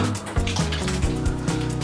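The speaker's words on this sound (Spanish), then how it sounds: "Me acabo de bañar con medio galón de agua" Water poured by hand from a half-gallon container for a bath at home during a power and water outage in Puerto Rico, splashing steadily and close up for about two seconds.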